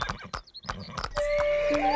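A horse in a Hindi cartoon story gives a short bright neigh after a quick run of hoof-like taps, heard close and alone.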